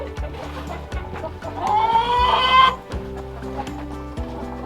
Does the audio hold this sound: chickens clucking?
yes